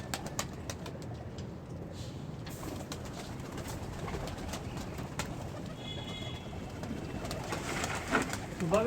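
Pigeons coo softly and repeatedly outdoors amid a constant rustling background, with a few sharp clicks and flutters, as low-flyer pigeons feed on scattered grain in the morning.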